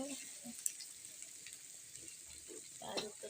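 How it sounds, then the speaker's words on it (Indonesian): Squid and tempeh stir-frying in a pan, a faint, low sizzle with occasional soft clinks and scrapes of stirring, fairly quiet and continuous with no talking. "ini tuh ditumis sampai dia matang wangi"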